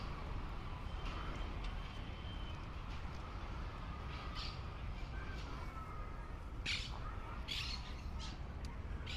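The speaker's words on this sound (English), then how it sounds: "We've got some parrots right here." Parrots calling from trees in a city park in the Colegiales area of Buenos Aires, with several short, sharp squawks and chirps at mid distance over a steady hum of street traffic.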